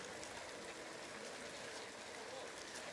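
Rain falls on the city of Marmaris on an evening in May, a steady, even hiss of drops with no breaks, fairly soft and constant throughout.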